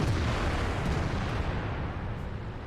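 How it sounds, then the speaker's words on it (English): A tank's ammo rack detonates in World of Tanks, a dense, sustained explosive roar with heavy low rumble that fills the whole moment without pause, loud and close, with no speech over it. "That was my third ammo rack in this entire game."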